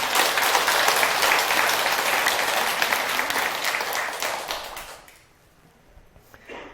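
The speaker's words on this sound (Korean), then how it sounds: "박수 한번 부탁드립니다" An audience at a temple talk applauds, a full steady burst of many hands clapping that fades out over the last seconds into quiet room tone.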